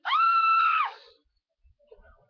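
A toy plays a short recorded scream, one sustained shrill cry that lasts under a second and cuts off into near silence, with faint clicks afterward.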